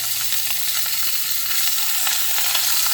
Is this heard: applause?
no